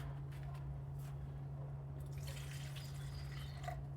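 Water is poured into PVA glue in a small container, giving faint drips and liquid trickles over a steady low electrical hum in a quiet room.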